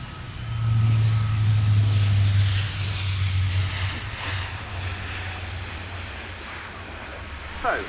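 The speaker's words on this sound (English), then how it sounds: "touching down the Lockheed Martin H-130J Hercules, Marine Aerial Refuel Transport Squadron 252, Marine Corps Air Station Cherry Point" A Lockheed Martin C-130J Hercules of a Marine aerial refuel transport squadron touching down at an air show, its loud droning turboprop roar steady then easing, with a faint whine above and crowd ambience.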